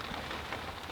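Steady rain patters on the fabric of a fishing bivvy during an October carp session, a dense, continuous hiss that stays close and fairly loud with no talking.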